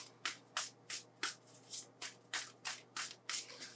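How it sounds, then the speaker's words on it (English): Santorini god power cards shuffled by hand at close range, about a dozen quick rhythmic riffling bursts in steady succession with no talking. "shuffle them up"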